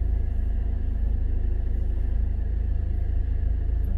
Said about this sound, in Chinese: 车辆蛮多的，平常的车辆没有这么多